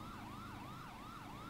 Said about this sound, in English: put those secondary sirens on, because they seem to move out of the way for the secondaries now